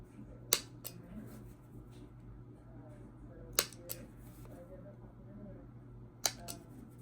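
Scissors snip the corners off scrap paper tickets, three sharp crisp cuts spaced a few seconds apart, each followed by a faint small click, in a quiet room with low background hum.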